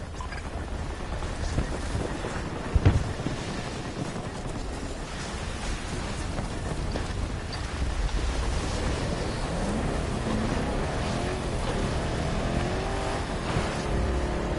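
A Jeep driving in Battlefield 2042 as it heads toward a tornado, with a steady engine roar mixed with loud rushing wind that holds continuously throughout, plus one sharp thump early on.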